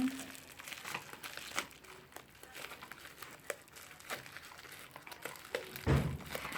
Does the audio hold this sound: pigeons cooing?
no